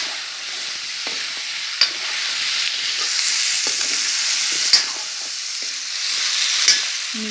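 Chicken with pumpkin and potatoes fries in a pan with a steady, dense sizzle, broken by a few sharp clinks and scrapes of stirring, with no voices.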